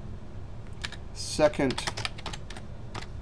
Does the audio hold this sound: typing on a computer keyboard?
yes